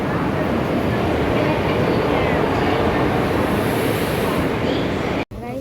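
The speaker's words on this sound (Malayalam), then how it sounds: "അടുത്ത ട്രെയിൻ" A train rumbles past close by, a loud continuous roar of wheels on rails that cuts off abruptly near the end.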